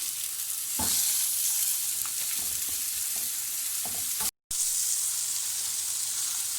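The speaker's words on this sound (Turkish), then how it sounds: "Arkadaşlar tavamı hafif yağlıyorum. Ardından köftelerimi bu şekilde tavama atıyorum." Hamburger patties sizzle in a lightly oiled pan, a steady bright hiss of frying with a few soft scraping knocks and a brief dropout partway through, no talk.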